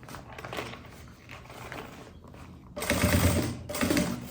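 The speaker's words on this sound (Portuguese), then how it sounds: "E costura." A sewing machine stitches fabric for a cosmetic bag, running in short close bursts of rapid mechanical clatter, with a louder stretch of stitching near the end.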